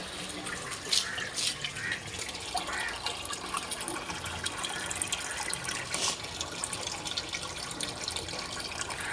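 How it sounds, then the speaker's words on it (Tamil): Water runs from a pipe into a fish tank holding golden guppies, a continuous splashing, bubbling pour with small surges, fairly close and steady throughout. "இவ்வளோதான் தண்ணி விட போகிறேன்."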